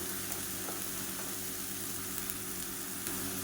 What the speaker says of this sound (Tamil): இப்போ எண்ணெய் நல்லா சூடாகிடுச்சு நம்ம அரைச்சி வச்சுருக்க இந்த புதினா கொத்தமல்லி பேஸ்ட்டை சேர்த்துக்கலாம்